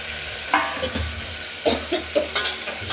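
Ingredients for masoor lentil dal are tempered in hot oil in a pan. A steady background sizzle carries a few clinking, scraping strokes of a spoon that come irregularly and close together.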